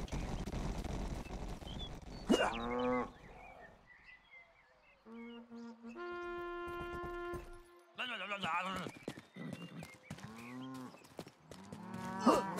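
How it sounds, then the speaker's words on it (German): Cattle mooing in the Rustler video game, several drawn-out moos spread across the stretch, with someone talking over parts of it and a few faint bird chirps in the background. "Hier gibt's Kühe."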